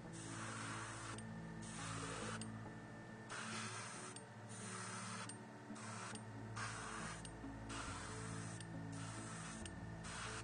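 Spray painting a Space Wolves miniature's cloak with an airbrush or spray can: a steady close hiss interrupted by short gaps as the spray is released and pressed again, with faint mechanical clicking beneath.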